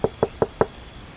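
Four loud, evenly spaced knocks on a gate door at night in a Bengali horror cartoon, heavy and close, followed by quiet.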